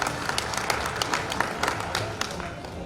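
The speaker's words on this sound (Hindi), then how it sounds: "जरा तालियां बजाकर स्वागत करें।" An audience at a political gathering in Sagar, Madhya Pradesh claps steadily, a dense, continuous round of applause with individual sharp claps standing out throughout.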